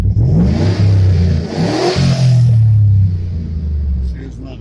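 A truck engine with a check engine light on, running loud and close, rumbles and revs up in a couple of rising surges before settling back to a lower idle, with some talk in the background.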